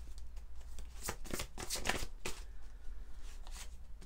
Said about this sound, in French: on va prendre quand même une carte